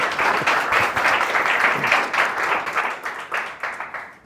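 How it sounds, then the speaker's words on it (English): Audience applause for a returning speaker at an R user group meetup, a dense wash of clapping that holds steady for several seconds before thinning slightly toward the end. "please give a really warm applause for a repeat speaker"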